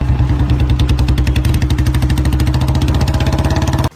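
A Royal Enfield Bullet motorcycle engine thumps close and loud with a rapid, even, pulsing beat that holds steady for several seconds before cutting off abruptly.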